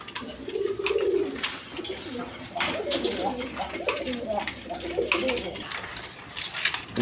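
A pair of high-flying Giribaz pigeons coo softly and repeatedly at close range, with light chirps from other birds and someone talking over them.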